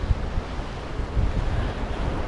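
Black Sea waves wash and slap against a pier at Kudepsta, Sochi, in a continuous churning roar, with gusts of wind buffeting the microphone.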